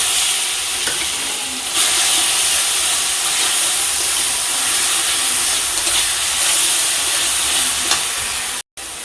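Ground spice paste hits hot oil in a pan and sizzles loudly and continuously up close, with faint stirring scrapes, broken by a brief silent gap near the end.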